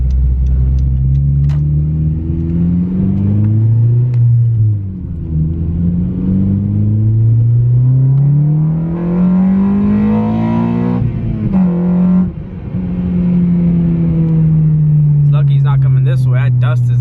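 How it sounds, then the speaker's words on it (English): Honda Civic Si with a K-Series engine revving, loud and close, the pitch climbing and falling in repeated sweeps over a steady throaty rumble, with people talking over it. "this is what I love about K-Series engines. They just sound so good."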